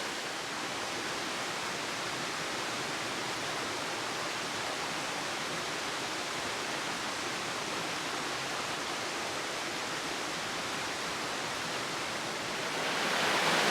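A river in the Lake District rushes steadily over rocks, a loud, dense, even roar of flowing water close by that holds unbroken for the whole stretch and swells slightly near the end.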